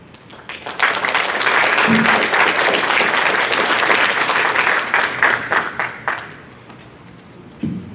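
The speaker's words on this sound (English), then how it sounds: "One more round of applause for Team 2." Audience applause following a team presentation at a city presentations and awards event, a full sustained burst of clapping from a room of people that swells quickly, holds steady, then thins out and fades near the end.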